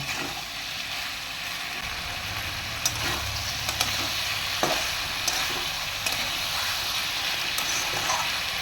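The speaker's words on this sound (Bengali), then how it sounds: "এটা নুন দিয়ে আমি আরও 2-4 মিনিট ভালোভাবে কষিয়ে নেব।" Prawns sizzle and fry with salt, ash gourd and ridge gourd in a pan, a steady close hiss throughout with occasional soft scrapes and clicks of stirring. No one speaks.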